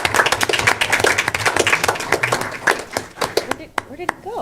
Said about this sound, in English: So if we could give him a round of applause for his dedicated service to Pasco,